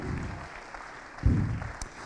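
Audience applause at an award ceremony for a public trophy, a short burst of clapping from a crowd in a room that swells briefly near the middle.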